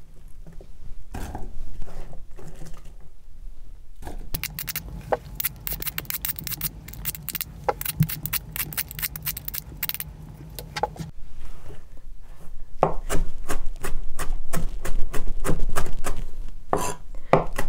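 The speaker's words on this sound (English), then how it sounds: "what the heck are you doing with this vegetable scraps and why are you chopping them up?" A knife chopping vegetable scraps on a cutting board in a home kitchen, quick uneven runs of crisp taps close up, pausing briefly before resuming in steady bursts.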